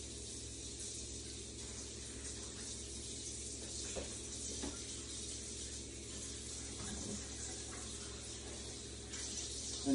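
Steady running tap water pours continuously while food is rinsed under it in a kitchen, a soft even hiss with a few faint knocks and no break in the flow.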